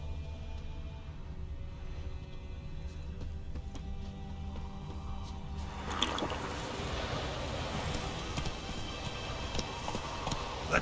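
Roach, Geralt's horse in The Witcher 3: Wild Hunt, gallops in the game, with hoofbeats building into a dense, steady rush over low rumbling ambience that swells louder midway.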